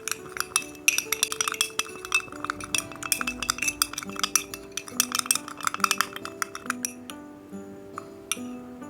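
Quick, irregular clinks of a spoon stirring a homemade face pack mixed with raw milk in a small bowl, close and busy before slowing to a few scattered taps at the end.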